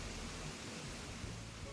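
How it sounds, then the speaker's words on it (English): A roaring waterfall from the game Animal Crossing: New Horizons, a loud, steady broadband rush of falling water that holds constant with no pauses. "It's super loud, waterfalls in this game"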